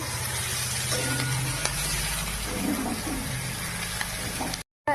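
Fried mushrooms and potatoes stirred through spice paste in a pan for a home-cooked Bengali-style mushroom dish, giving a close, steady sizzle with soft scraping that runs unbroken and then cuts out briefly near the end.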